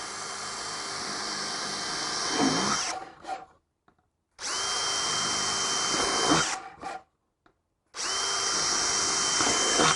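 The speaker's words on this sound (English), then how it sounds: "If you want to drill your holes," A power drill whines steadily in three long bursts, each stopping abruptly with short silent gaps between, close and loud.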